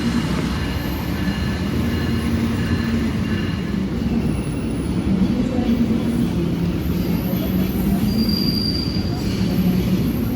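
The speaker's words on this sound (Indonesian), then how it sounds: "Nah, ini ada kereta tanker." Tanker freight train passing at Kroya station in Java at night, a steady rolling rumble with high-pitched wheel squeals drifting over it throughout.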